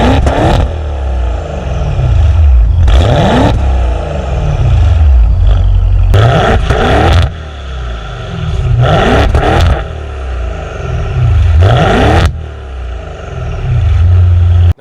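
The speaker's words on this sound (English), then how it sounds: "fire it up in Sport Corsa mode and give it a couple of blips just so you guys can see what that V8 power sounds like" A 2022 Maserati Ghibli Trofeo twin-turbo V8 in Sport Corsa mode is revved repeatedly, loud close blips rising and falling in regular cycles with a deep burbling idle between them.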